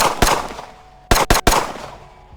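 Simulated gunshots in the Practisim dry-fire shooting simulator: one sharp crack, a pause, then three quick loud shots in close succession, with no talking.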